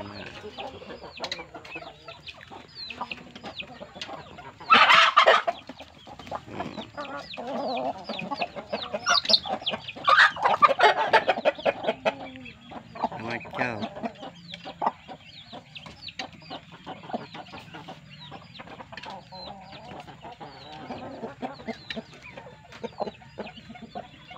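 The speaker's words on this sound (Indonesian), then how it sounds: "ayam bangkok biasa" Bangkok chickens cluck steadily in a dense, busy chorus, with a few louder squawks and bursts rising above the continuous flock noise.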